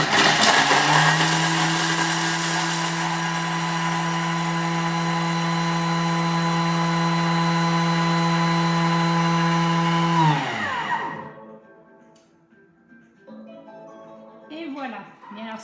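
A Thermomix runs at speed 10 working a very hard dough, a loud, steady high-pitched whine with a droning motor tone that holds for about ten seconds, then winds down and stops, followed by faint kitchen clatter.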